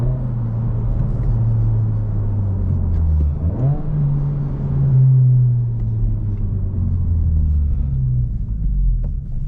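Honda Civic Si running loud from inside the cabin, a steady deep engine drone with a brief dip and rise as it downshifts, then pulls on under acceleration, with no one speaking.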